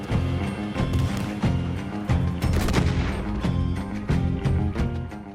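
Gunfire in a Red Dead Online multiplayer match, shots fired from behind a tent, rapid repeated reports and crashes with a game music bed running underneath throughout, loud and busy.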